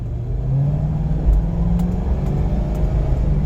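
A 2011 Ford Crown Victoria Police Interceptor pulls away in first gear, its engine a steady, fairly loud low rumble that rises a little in pitch as it accelerates, heard from inside the car with no talk.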